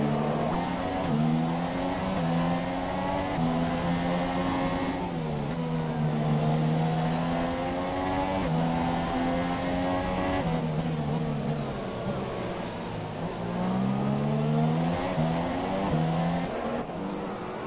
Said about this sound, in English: The Fluky was nice and smooth downshifting into the right-hand hairpin.